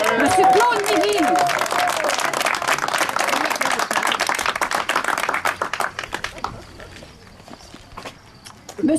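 An inauguration audience applauds with sharp, close clapping that builds and then thins into scattered claps, with voices underneath.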